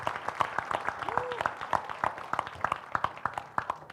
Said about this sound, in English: I'll in turn ask the town to applaud the council members.